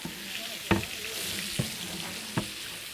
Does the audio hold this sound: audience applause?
no